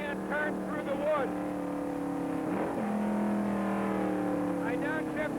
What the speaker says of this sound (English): I shift from 2nd to 3rd, then from 3rd to 4th as I go under the bridge.